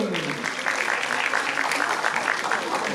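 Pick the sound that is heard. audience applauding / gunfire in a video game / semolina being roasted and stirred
audience applauding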